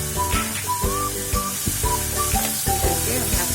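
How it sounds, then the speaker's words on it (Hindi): Spices fry for mutter ki dal, a North Indian nimona dish, giving a loud, continuous close-up sizzle. Music plays over it and no one speaks. "डाल के हम अच्छे से फ्राई कर लेते हैं।"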